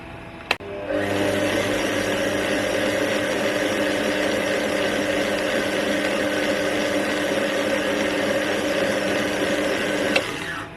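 Small lathe fitted with a single point threading adaptor and plastic gears runs steadily, a loud, close, continuous whirring hum with gear whine, starting and stopping with faint clicks.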